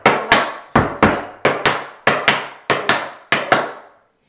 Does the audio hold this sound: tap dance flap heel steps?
yes